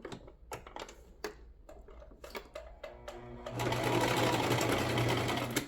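A sewing machine back stitches scrap fabric for a small chapstick holder: a few short clicking bursts give way to a steady, fast whirring run of stitching, close and fairly loud.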